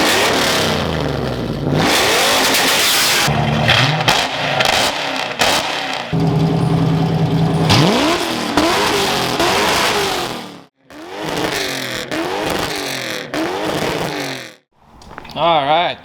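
A Ford Mustang Foxbody's engine revs repeatedly in loud bursts through a new custom muffler exhaust, rising and falling pitch, a throaty exhaust roar, with brief pauses between revs.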